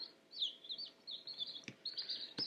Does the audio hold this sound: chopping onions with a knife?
no